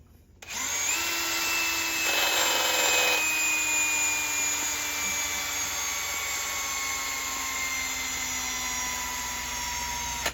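A battery-powered tool whirs continuously while working on a turbo stud aboard a 48 Ocean yacht, its high whine and harmonics gliding gradually lower in pitch as the battery runs down, steady and close.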